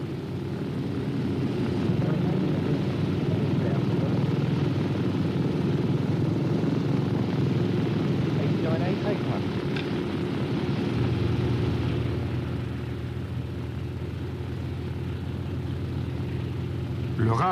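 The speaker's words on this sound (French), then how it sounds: "Une fois que les 20 moteurs cyclones ont été lancés" Twenty Cyclone radial engines of warbird aircraft run together at an air display, a dense, steady low roar that fills the scene continuously from start to finish.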